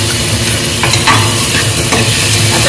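Onions and ginger garlic paste sautéing in hot oil, a loud constant sizzle with a few sharp scrapes of a stirring spoon and no voices.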